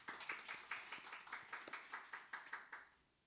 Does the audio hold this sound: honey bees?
no